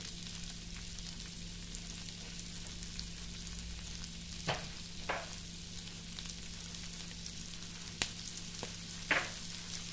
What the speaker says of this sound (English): we just allow this to become caramelized for maybe 5 minutes